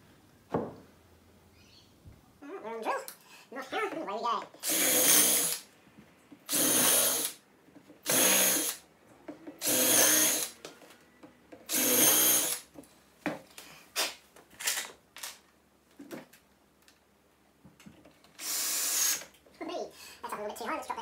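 A power drill drives square drive screws into wood for a laundry basket stand, with several loud whining bursts of a few seconds each, separated by pauses in which someone talks nearby.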